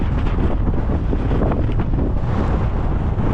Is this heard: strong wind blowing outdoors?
yes